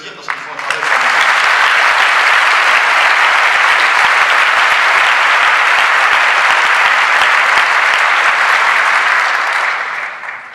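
A large audience at UNESCO in Paris gives sustained, loud, dense applause for the OCH team, starting abruptly and holding steady for about ten seconds before tapering off at the end.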